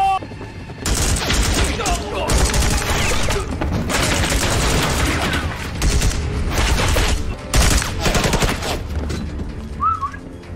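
Dense bursts of gunfire erupt in a film shootout between a sniper's side and enemy troops, rapid shots and machine-gun rattles crowding together, loud and near, with brief voices in between.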